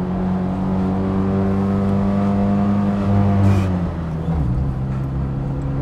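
A classic Fiat 500's small engine revs up loudly from inside the car while driving, its pitch climbing steadily before dropping as it shifts, then building again.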